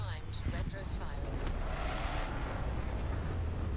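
A steady, loud roaring rumble of spaceship retro thrusters firing during landing in Starfield, continuous throughout with a faint voice over it.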